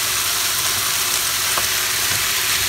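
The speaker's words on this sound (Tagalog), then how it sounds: "Gisa po natin mabuti ang karne" Ground meat sizzles loudly in a pan with sautéed vegetables for a Filipino stuffed eggplant omelette filling, a dense, steady frying hiss with faint stirring and no talk.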